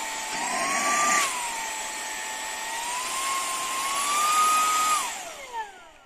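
A car vacuum cleaner runs steadily close by, its motor whine holding a fairly even pitch, rising briefly near the start and again toward the end before winding down, with no talk over it.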